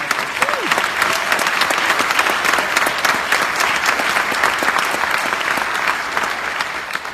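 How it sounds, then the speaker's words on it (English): Sustained audience applause fills a hall of fame induction ceremony, a dense, steady clapping crowd at constant loudness throughout, with faint voices mixed underneath. "Please hold your applause for the next guy."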